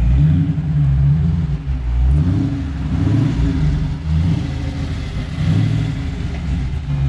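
A six-speed manual Dodge Challenger 392 Scat Pack with its muffler deleted rumbles loudly up close, its deep V8 exhaust swelling and easing in repeated revs, with no talk over it.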